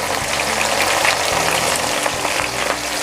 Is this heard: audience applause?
no